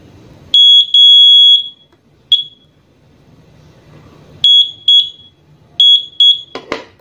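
A motorcycle signal-light buzzer, powered from a jump starter, gives loud, piercing high-pitched beeps in short bursts, with pauses between the groups and a brief rattle near the end.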